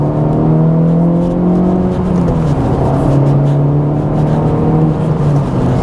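An Acura Integra Type S engine drones loud and close from inside the car, its pitch sliding down as the driver downshifts and then holding steady at a lower note, with no one talking.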